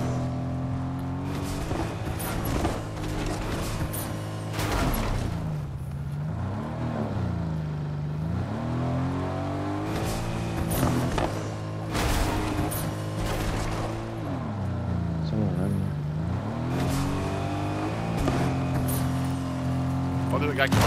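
A car in Fortnite drives with a continuous engine drone that rises and falls in pitch as it speeds up and slows, under near-constant player voice chat.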